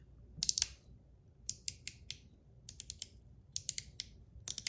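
A Blasted Zirc One Pal mechanical fidget slider gives quiet, crisp clicky ticks in quick clusters of two to four as it is slid back and forth, close up with no talk.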